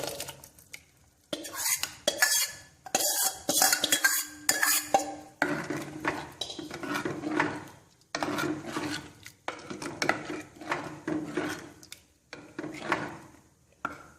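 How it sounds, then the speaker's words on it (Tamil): Thick cooked moong dal is scooped and scraped into a metal pot for sambar, with repeated utensil clinks and wet stirring, in uneven close bursts. "வேக வச்ச இந்த பாசிப்பருப்பையும் இப்போ எடுத்து இந்த இதில் ஊற்றுறோம்."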